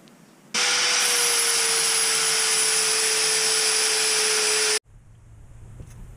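A power tool grinding a car exhaust downpipe runs as a loud, steady whine with a high constant tone for about four seconds, then cuts off abruptly, leaving a low background hum.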